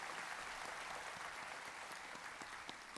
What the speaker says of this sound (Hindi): मैं चाहूंगा ताली बजा करके उस इंजीनियर का सम्मान कीजिए।